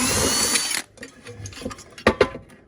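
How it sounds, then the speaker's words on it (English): A power drill whirs steadily for under a second while backing bolts out of a light fixture being scrapped, then stops, leaving a few quieter clicks and clanks of metal parts. "so here we go again with the drill."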